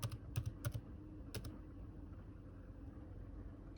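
Several quick taps on a computer keyboard in a Windows search box come first, close and quiet, followed by faint room hiss with no talking.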